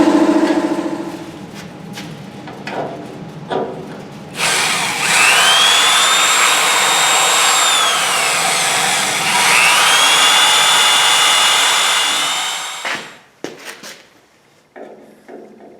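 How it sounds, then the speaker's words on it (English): A power drill bores out spot welds on an MG Midget car body during removal of the A-post, a loud, steady high whine holding for several seconds, with faint clicks before and a brief rattle as it stops. "Now we'll have to go around to the other side, drill out some spot welds."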